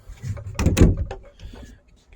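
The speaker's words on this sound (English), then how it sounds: "Let me close the door." A house door swings shut on a snowy day, a soft shuffle and creak building to a thudding close, then lighter rattles of the latch, near and loud with no talk.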